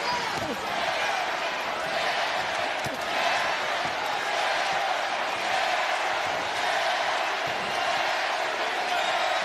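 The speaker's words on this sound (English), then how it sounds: "This crowd is electric, and Jared is feeling it." A boxing arena crowd in Toledo, Ohio roars and cheers steadily throughout, a dense, loud wash of voices with scattered claps and thumps.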